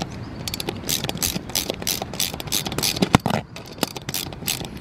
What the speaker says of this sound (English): I'm just using a half inch ratchet on this.